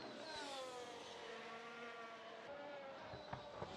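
High, whining race car engine on a qualifying lap at Monaco in a racing game, holding a steady pitch then easing off, with a faint thump or two near the end, close and continuous.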